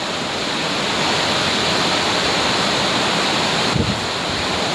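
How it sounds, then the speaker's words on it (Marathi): Monsoon waterfalls pour down a mountainside, a strong steady roar of falling water that fills the air without a break. "धबधबे आलेत डोंगराला आमच्या."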